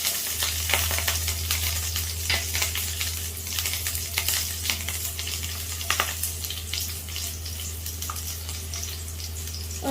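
Shallots, dried red chillies and curry leaves sizzle and crackle in hot oil after mustard seeds have popped, with a steady dense frying hiss full of small pops and occasional stirring scrapes, loud and close over a low hum.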